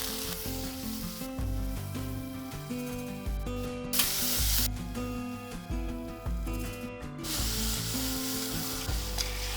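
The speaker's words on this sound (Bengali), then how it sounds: "এরপরে পুরো জিনিসটাকে একটু লো ফ্লেমে রেখে সতে করে নেব" Onion, tomato and curry leaves sauté over a low flame in a pan, giving a steady sizzle that sits under loud background music throughout.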